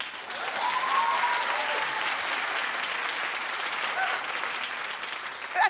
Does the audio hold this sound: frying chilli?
no